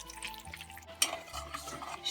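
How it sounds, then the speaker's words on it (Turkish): Butter melting and frying in a pan while being stirred for traditional Circassian tea, soft sizzling with light scraping and a clink of utensil against the pan, close and quiet, no talk. "Tereyağımızı iyice eritiyoruz,"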